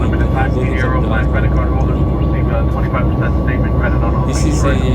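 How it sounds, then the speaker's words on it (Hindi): Airliner jet engine roaring steadily in flight, a loud continuous broadband drone heard from inside the cabin, with a voice speaking over it throughout. "ये जहाज का इंजन है, दोनों तरफ जहाज"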